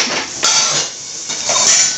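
Stainless steel cookware pots and lids clink and scrape together while being unboxed and handled, a few loud metallic knocks and rattles up close with no talking.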